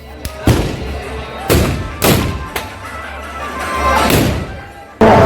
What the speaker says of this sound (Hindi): सभी ग्रामवासी पूरी रात बंदूकों से फायर और आग उगलती आतिशबाजी कर जश्न मनाते हैं